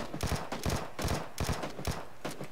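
Rapid bursts of automatic gunfire from a shooting simulator video game, several loud clustered volleys repeating steadily for a couple of seconds with no talking.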